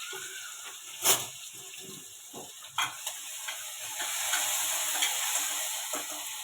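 Chopped tomatoes and fine-cut green chillies are stirred into a pan for khichdi, making a soft low sizzle. Sharp spoon clacks and taps break through at irregular intervals.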